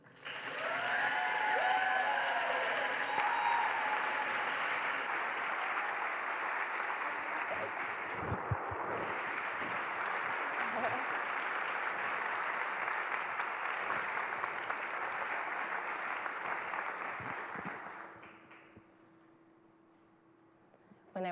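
Audience applause welcoming figure skater Michelle Kwan, a dense sustained clapping from a large crowd lasting many seconds before fading out near the end.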